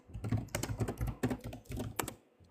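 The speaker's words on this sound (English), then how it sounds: "that boy typing fast on his computer" Rapid typing on a computer keyboard, dense irregular clicks and clacks running steadily for a couple of seconds, close but fairly quiet.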